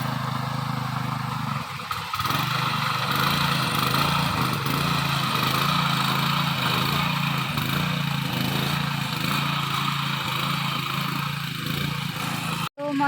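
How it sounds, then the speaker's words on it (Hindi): A tractor ploughing a hillside field in the mountains, its engine giving a steady, continuous mid-pitched drone with a light rattle, running unbroken at close range for most of the stretch before cutting off abruptly near the end. "तो यहाँ पे जेठ जी लगा रहे हैं हल"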